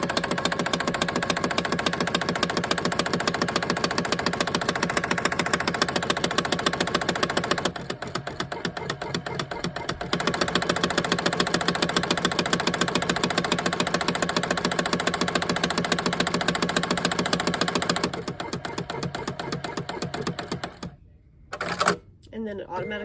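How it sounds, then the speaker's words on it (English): A Juki EB-1 buttonholer on a Juki TL-18 sewing machine stitches a buttonhole, giving a fast, steady mechanical chatter that stops twice for short pauses and ends with a few clicks, under a person talking. "So the needle's going up and down and the fabric is moving left"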